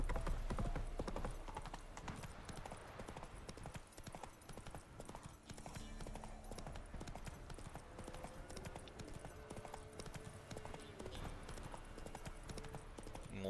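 Horse hooves clip-clopping at a steady riding pace in the video game The Witcher 3, a continuous quiet rhythmic trot with faint game ambience behind it.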